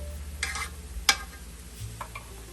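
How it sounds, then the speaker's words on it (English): Crawfish and crab etouffee with lobster base stirred in a very hot pot, a spoon scraping and clacking against the metal in a few short strokes over a low sizzle, with one sharp clink partway through. "Going to give that a stir around."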